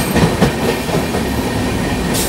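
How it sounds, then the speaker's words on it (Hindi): A train rolls through Motichur railway station with a continuous, loud rumble and rattle of wheels on track, heard from on board. "मोतीचूर के रेलवे स्टेशन को क्रॉस कर रही है हमारी गाड़ी"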